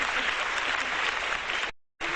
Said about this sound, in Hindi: तालियां बजाए यार